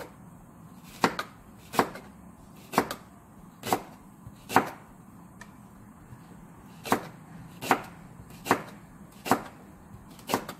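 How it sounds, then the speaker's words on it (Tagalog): Spring onions chopped with a knife on a cutting board, about a dozen crisp, close knocks in loose pairs and singles, spread over ten seconds against a quiet background. "Ngayon, hihiwain na natin yung ating spring onions."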